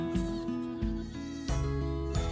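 Baby goats on a farm bleat in several wavering, strongly harmonic calls that overlap and repeat close by, one after another with only brief gaps.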